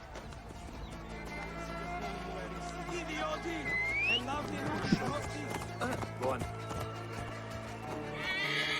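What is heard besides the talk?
horse galloping and neighing in video game Assassin's Creed Origins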